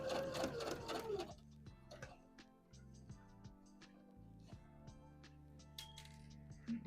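A sewing machine stitches a quarter-inch seam on a dress, opening with a loud burst of rapid mechanical whirring that drops away, followed by quieter intermittent clicks, taps and a light metallic clink.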